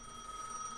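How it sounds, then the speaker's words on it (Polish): A telephone ringing in the Gas Station Simulator video game, a faint steady electronic ring with sustained tones, quiet and alone with no voices. "I odbierzemy telefon od wujaszka."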